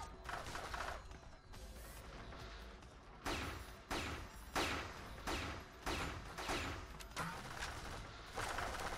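Alien base turret firing inside the Area-51 video game, loud repeated bursts of shots in an irregular rhythm over a dense mechanical and ambient game background, with no talk.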